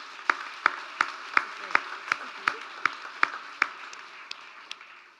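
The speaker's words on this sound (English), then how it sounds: "A big round of applause for Ruth Henderson" Applause for an award nominee at a community event, heard as about a dozen separate distinct claps spaced evenly, each sharp and fairly close, fading slightly toward the end.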